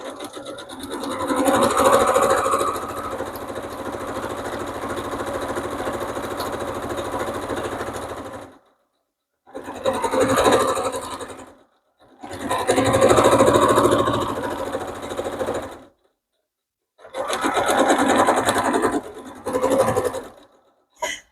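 A sewing machine runs a back stitch, whirring in close, loud bursts: one long run, then several shorter runs separated by brief silences, with no voices.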